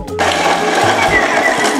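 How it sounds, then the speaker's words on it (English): A blender grinds sugar biscotti into powder, a steady loud whirring roar that starts abruptly and holds constant, with a low motor hum beneath. "So it's now time to powder our sugar biscotti with the help of a blender."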